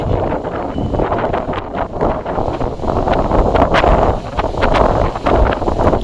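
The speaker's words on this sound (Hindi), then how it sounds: "और कितनी हवा चल रही है देखो, बहुत हवा चल रही है।" Strong wind buffeting the microphone in loud, continuous gusts that swell and ease with a broad roaring rumble.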